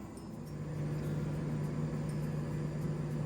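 An air fryer set to 200 degrees runs with a steady electric hum and soft fan whoosh, constant and close, with no voices.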